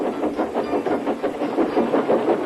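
A steam engine brakes gently, its chuffing and rail clatter rolling in a steady, close, rhythmic pulse with no voices.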